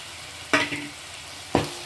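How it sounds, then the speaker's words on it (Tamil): Ground tomato goes into a hot pan of sautéed onions for fish curry: two sudden bursts of loud sizzling about a second apart, each fading quickly into a softer hiss. "இந்த ஸ்டேஜில் நம்ம அரைச்ச தக்காளி இருக்குங்களா அதையும் ஊற்றிக்கலாம்"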